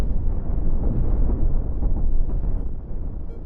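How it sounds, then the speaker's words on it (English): Railgun rounds slam into an armored spaceship's hull in the game Cosmoteer, producing a steady, loud, low rumbling of overlapping impacts and crackling bursts with no pauses. "Railguns coming from the side. Not much damage though, the armor blocked them."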